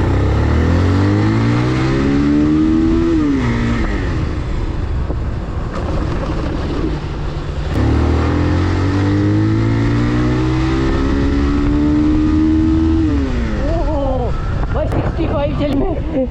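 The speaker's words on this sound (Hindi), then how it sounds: "इस बाइक को चलाने में ना इसकी आवाज़ सुन की ही अलग सा फील आ रहा है" Bajaj Pulsar 220 motorcycle engine accelerating on the road, rising through the gears in two long climbing pulls with a gear change between them, loud and close, with wind noise.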